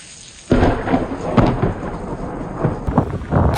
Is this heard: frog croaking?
no